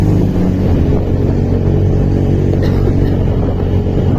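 Road traffic in Bandung, Indonesia, with cars and large vehicles, heard from a touring motorcycle. A dense, steady engine rumble and road noise continue without a break.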